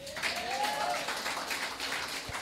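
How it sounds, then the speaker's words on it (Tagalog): A church congregation at a Sunday service breaks into applause, a soft, diffuse clatter of clapping from a crowd, heard over the room's reverberant background. "Pumalakpak yung nag-a-agree."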